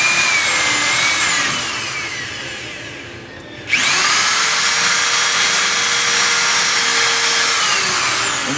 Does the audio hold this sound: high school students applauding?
no